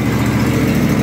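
Kawasaki V-twin engine idling on a John Deere X570 lawn tractor after a cold start, a steady, loud low rumble with even throbbing, running alone without voices.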